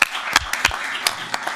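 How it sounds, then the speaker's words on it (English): Audience at a utility commission meeting clapping, a smattering of distinct individual claps over a soft wash of applause, fairly close and brief. "So I think that deserves an applause."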